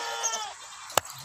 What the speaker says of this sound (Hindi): ये 5वें नंबर पे बकरा आ गया माशाल्लाह